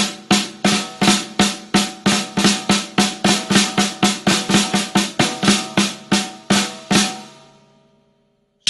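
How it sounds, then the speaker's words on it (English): Patty Fla-Fla drum rudiment played on a snare as two flams and two single strokes, a steady run of about two dozen crisp, loud, close hits over seven seconds, then the last stroke rings out into silence. "It's a stroke called the Patty Fla-Fla."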